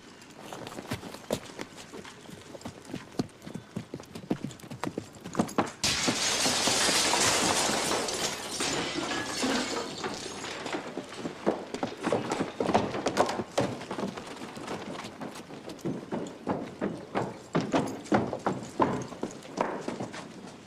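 Horse hooves clip-clop at a steady pace for a long stretch, crisp and close, with a brief burst of rushing noise partway through.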